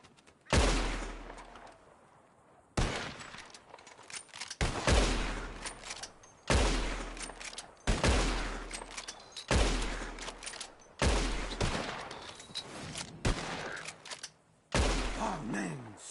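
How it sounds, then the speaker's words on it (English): Gunshots at birds in Red Dead Redemption 2 ring out as seven or eight loud, sharp reports spaced a couple of seconds apart, each trailing off into a short echoing decay. "whoever shoots 4 birds out of the sky first wins"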